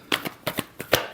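A deck of tarot cards being shuffled up close: six quick, crisp papery bursts in a steady rhythm, with no voice over them.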